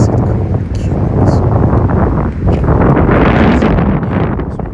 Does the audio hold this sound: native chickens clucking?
no